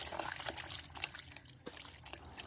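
A pure cotton saree dipped into water makes faint, soft pouring and trickling sounds with small splashes, close and quiet, no voices.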